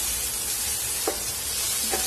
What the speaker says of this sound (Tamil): இது இதோட சேர்த்தி வதக்கி விட்டுக்கலாம்